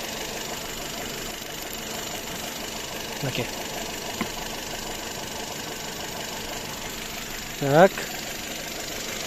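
A 2016 Skoda Octavia with a 1.6 engine idles steadily under the hood, a low even hum running throughout, while someone speaks briefly near the end.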